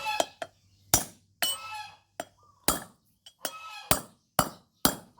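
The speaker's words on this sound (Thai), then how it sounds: "นี่ค้อนหนักๆค้อนสามโล ตอกไปเลย" A heavy three-kilo hammer pounds a wheel bearing on an Isuzu front wheel, giving about a dozen sharp, ringing metallic strikes at an uneven pace, close and loud, with no talk.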